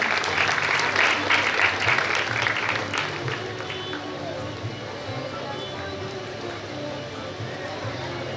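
Audience at a community award ceremony honouring students gives loud sustained clapping that slowly fades while a voice talks over it.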